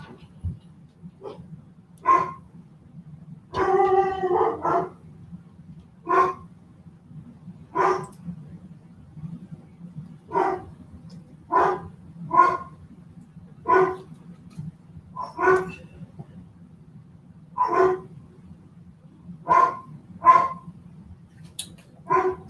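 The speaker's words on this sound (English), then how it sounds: "dogs are probably barking at the window." Dogs bark at a window indoors, a string of short, sharp barks repeating irregularly over about twenty seconds, moderately near, with a low steady hum beneath and no speech.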